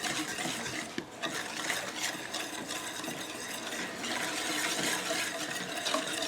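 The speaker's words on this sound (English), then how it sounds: "Stir all this up" Sugar stirred into a pot of boiling blackberry jelly, a steady bubbling churn with faint scraping of the spoon, close and continuous with no talking.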